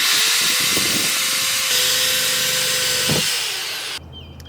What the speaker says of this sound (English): we're just going to drill in